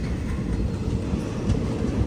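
Delhi Metro train passing nearby, heard from inside a moving Mussoorie Express sleeper-class carriage, a steady low rumble and rolling rail noise filling the whole stretch without speech.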